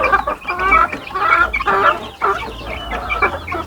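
Chickens and growing chicks cluck repeatedly in short, close bursts with brief pauses between, a busy farmyard flock heard alone without talk.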